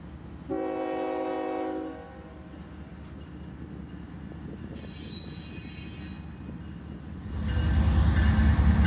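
Loaded freight train of Tropicana juice cars on a bypass track in Tampa, Florida: a loud horn blast first, then a steady rumble of passing wagons, building to a heavier, louder roar of wheels near the end.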